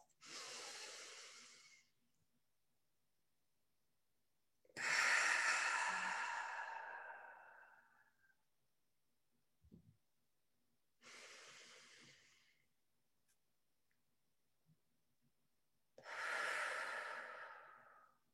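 Four slow, audible breaths during a guided breathing exercise, each a long airy exhale through the mouth, separated by quiet pauses. The breaths are close and fairly soft, with no talking.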